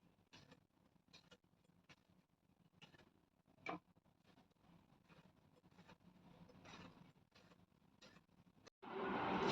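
A knife slicing ridge gourd into rounds on a board, heard as a series of faint, separate ticking cuts at a steady, unhurried pace, with a louder rustle of handling at the end.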